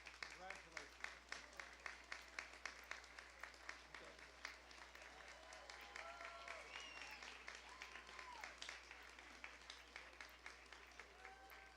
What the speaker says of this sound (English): Please give these excellent and dedicated public servants one more round of applause.